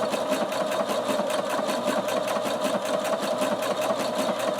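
A sewing machine stitches a heart appliqué onto fabric, its fast, even mechanical chatter running steadily and close up with no pauses.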